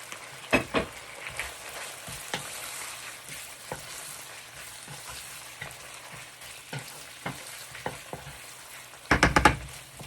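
Green onions fry in a pan with a steady low sizzle, punctuated by scattered spatula knocks and a quick burst of clattering stirs near the end.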